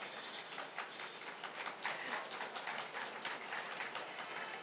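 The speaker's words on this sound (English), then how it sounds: "as you can tell from the claps" An audience applauds in a hall at a literature festival in Karachi, steady scattered clapping heard faintly and at a distance, continuing throughout with no voices over it.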